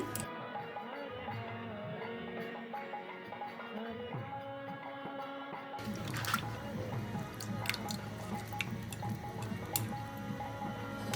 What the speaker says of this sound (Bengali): এখন আমি মেশারের সাহায্যে হালকা একটু মেশ করে নিচ্ছি